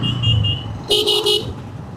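On the Dhaka–Chittagong highway, a car horn blares in a loud half-second burst of quick pulses, following a fainter earlier tone, over a constant rumble of passing traffic.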